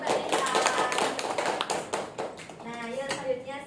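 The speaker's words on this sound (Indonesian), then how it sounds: "Oke, tepuk tangan buat Mbak Lisa." A classroom of children gives a short burst of applause for a girl at the front of the class, loud dense clapping that tapers off into chatter and voices.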